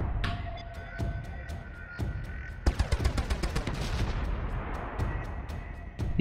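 Artillery and gunfire in the strategy game Pandora First Contact, city defense: a steady barrage of sharp cracks and booms, with a dense rapid burst of shots near the middle over a constant rumbling battle bed.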